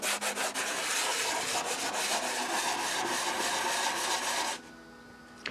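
Sandpaper rubbed back and forth over fiberglass at a model aircraft wing joint, a steady close scratchy rasp of repeated strokes that runs continuously and then stops abruptly near the end.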